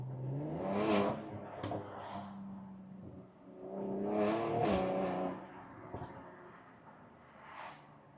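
A Mercedes C43 AMG with Stage 2 tuning and a louder exhaust accelerates in two strong revving surges with a lighter rise near the end, its engine note climbing and falling close by.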